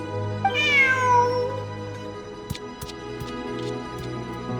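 A cat gives one clear, drawn-out meow early on in Genshin Impact, followed by a few soft clicks and ticks over quiet game ambience.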